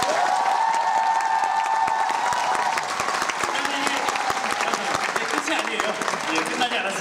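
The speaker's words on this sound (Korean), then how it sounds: "이렇게 계속 박수 쳐주셔서 다시 한번 감사드립니다" A packed musical theatre audience at a curtain call for the musical FAME keeps up steady, thick applause with scattered cheering and crowd noise, and a faint tonal sound in the background early on.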